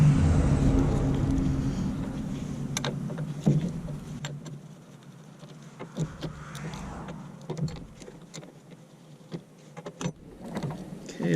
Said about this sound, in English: Hey, a school bus is going by.